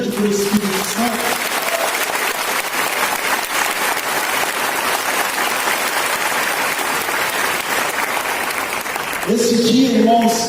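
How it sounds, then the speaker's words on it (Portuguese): A church congregation at a Pentecost celebration gives a long, loud, dense round of applause, with a voice and music rising over the clapping near the end. "Vamos dar uma salva de palmas bem grande para o Espírito Santo."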